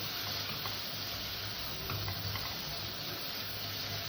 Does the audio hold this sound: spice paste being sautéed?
yes